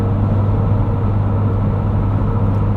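Road noise from 35-inch tires on a Ford Ranger Raptor fills the cabin as a steady, loud, low droning rumble with a constant hum underneath, unbroken throughout and with no voices.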